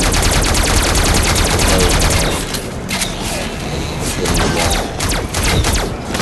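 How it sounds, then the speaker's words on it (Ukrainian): Automatic turret in the survival video game LifeAfter fires a loud, fast burst, stops for a mechanical reload with softer clicks and thumps, then resumes with scattered shots. "Кидаем нашу турельку. Начинаем стрелять, чтобы она набрала жир."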